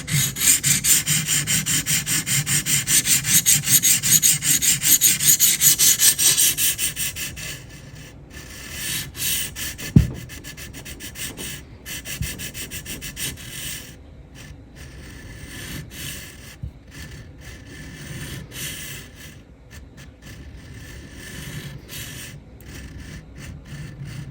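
Knife steel rasping against a stone on a TSPROF Kadet Pro sharpener, a loud continuous scraping for the first several seconds, then quieter intermittent strokes with one sharp knock and light clicks.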